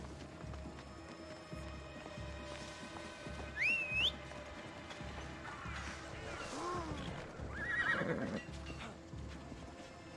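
A horse in the video game Assassin's Creed Odyssey gives a loud whinny, and its hooves clip-clop along beneath a looping game soundtrack. Further neighs and snorts follow at moderate volume.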